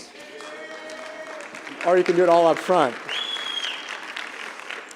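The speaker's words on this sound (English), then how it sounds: "you can applaud if you'd like." A graduation ceremony audience claps in a steady wash of applause that runs throughout, with a speaker's voice over it at a podium microphone.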